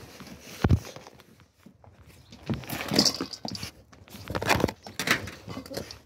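A household dog moves about on a hard floor, making a few scattered thumps, pattering steps and soft close sounds with short gaps between them.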